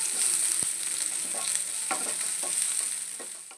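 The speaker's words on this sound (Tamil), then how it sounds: "எண்ணெய் நல்லா சூடானதும் இதில் கட் பண்ணி வச்சுருக்க ஒரு ஹாஃப் ஆனியன் சேர்த்துருக்கேன்." Onions sizzle loudly and continuously in hot sunflower oil, with a few stirring scrapes and clicks, no talking.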